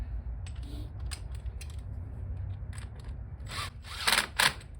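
A driver snugs down a hose clamp on a sump pump discharge adapter. Irregular creaks and mechanical ticks come up close, with a louder pair of grinding bursts near the end.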